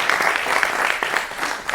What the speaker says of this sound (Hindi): जोरदार तालियों के साथ इन सभी का स्वागत करते हैं।